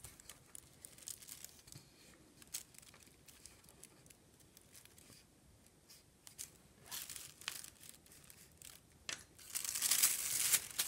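Plastic wrap crinkles and tears over polymer clay, with soft handling rustles building to a louder burst of crinkling near the end, close and without speech.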